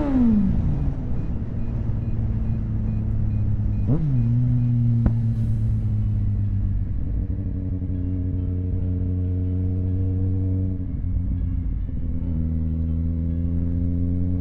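A motorcycle riding on the road near Zakopane, its engine running steadily in a constant loud drone with gear shifts marked by brief pitch drops and rises, wind noise over it, no talking.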